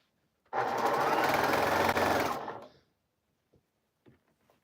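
A sewing machine stitches a cotton scrap quilt in one steady, close run of about two seconds. The rapid needle hum then stops, leaving a few faint clicks and handling sounds.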